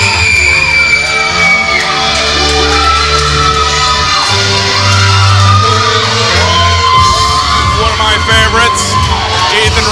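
A wrestling crowd at a PCW Limelight tag team show roars steadily, with whoops, yells and bellowed shouts rising over a continuous loud wall of cheering and chatter.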